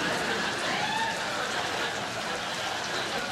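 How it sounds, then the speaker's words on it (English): Steady rain falls in a dense, even hiss with no breaks, fairly close and moderately loud throughout. "Look, I know it's raining"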